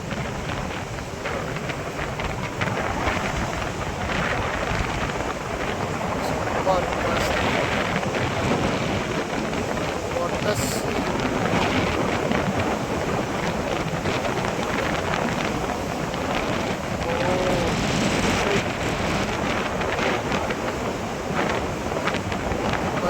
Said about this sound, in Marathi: कसला समुद्र खवळलाय बघा.